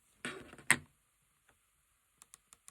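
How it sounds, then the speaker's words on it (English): A repaired Nintendo DS Lite hinge clicks as it is worked, a rustling opening movement followed by a sharp snap and then four small evenly spaced clicks, close and quiet. "Now we have our clicking."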